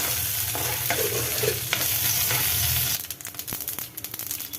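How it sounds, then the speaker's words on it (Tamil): Lentils, dried red chillies and curry leaves sauté in a pan for an eggplant chutney, first as a dense, loud sizzle, then giving way to quicker scraping stir strokes and lighter crackling. "இப்போ இதெல்லாத்தையும் நல்லா வதக்கிக்கலாம். இந்த பருப்பு நல்லா செவந்து வரணும்."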